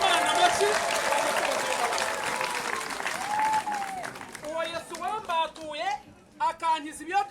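A church congregation bursts into loud applause praising God, the clapping fading after a few seconds as a preacher's voice takes over in short phrases.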